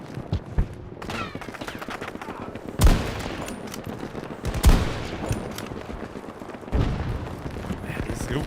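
Bursts of automatic gunfire and heavy booming shots in the video game Battlefield 2042, loud and dense, with several sharp impacts standing out over continuous battle noise and someone talking.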